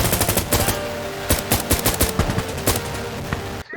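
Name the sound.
M1 Garand rifle gunfire in video game Insurgency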